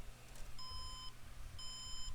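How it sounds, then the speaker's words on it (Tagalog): An HP Compaq 8000 Elite ultra-slim desktop that fails to boot gives its power-on POST beeps: two clean, evenly spaced electronic tones, each about half a second long, clear over a low hum. "May post beep siya."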